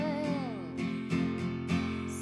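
Steel-string acoustic guitar strummed in a down, down, up, down, up pattern for the bridge of a song; a few clear, ringing chord strokes played alone, close and moderately loud.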